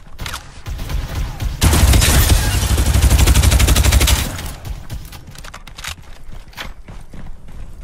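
Sustained rapid gunfire bursts during a firefight in the video game Farlight 84, a dense loud volley lasting a few seconds, followed by scattered single shots and lighter clatter.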